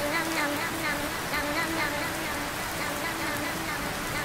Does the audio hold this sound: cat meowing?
no